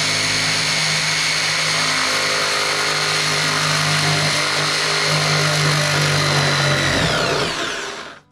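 A power saw runs steady and loud for about seven seconds while plunge-cutting into soffit material, its motor whine holding level before spinning down to silence at the end.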